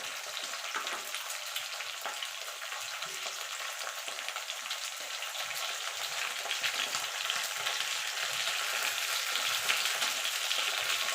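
Flat beans fry in a pan with a steady crackling sizzle, close and even, growing slightly louder toward the end, with no voices.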